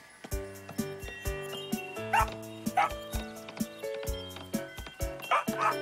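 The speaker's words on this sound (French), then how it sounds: "Oh, regardez, un duo de chiens dansants." Two small cartoon dogs yip and bark repeatedly while dancing over a bouncy, rhythmic music track in the animated show Strawberry Shortcake, the barks landing in quick bursts throughout.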